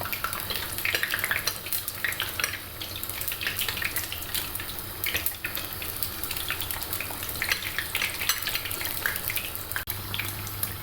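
Continuous crackling and popping of cheese-filled Rum böreği pastry frying in hot oil, steady and fairly close, with no voices.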